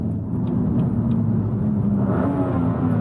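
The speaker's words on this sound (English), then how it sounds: "let's see what happens in the downshift here. 5, it's going 5 to 3." A car with a faulty transmission, missing gears after a bad flash update, downshifts from fifth to third. A steady, close engine rumble and whir continue throughout and swell slightly near the end.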